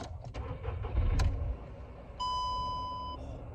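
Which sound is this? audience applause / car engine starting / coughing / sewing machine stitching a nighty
car engine starting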